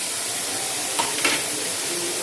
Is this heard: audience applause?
no